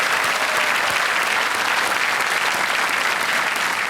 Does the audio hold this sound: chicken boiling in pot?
no